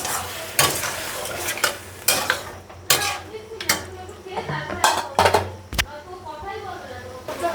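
Mutton is stirred with ginger and garlic paste in a pot, with a spoon scraping and clinking against the metal in repeated strokes over a soft sizzle.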